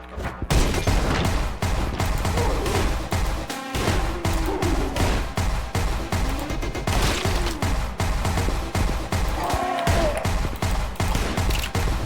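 Rapid bursts of pistol fire crack repeatedly in quick succession, dense and continuous, with sound effects from the video game Anger Foot woven between the shots.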